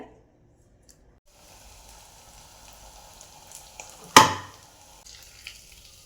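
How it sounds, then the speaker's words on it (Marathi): Puris made from bhagar flour and potato drop into very hot oil in a kadhai, bringing a soft sizzle with one sharp splash-like burst, then a low, steady frying hiss. "कढईत तेल गरम करण्यासाठी ठेवले आणि तेलसुद्धा आपलं चांगलं कडकडीत तापलेलं आहे तर आता आपण ह्याच्यामध्ये पुरी सोडून घेऊया"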